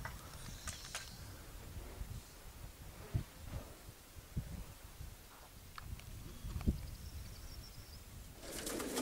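Racing pigeons fly overhead at a loft, with faint scattered wingbeats, coos and calls against quiet open-air background noise, growing busier at the very end.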